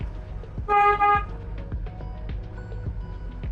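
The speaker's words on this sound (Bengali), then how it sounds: "হর্ন দেন" A car horn gives a short double toot during a driving lesson, loud and close, over a low idling engine and light cabin clicks.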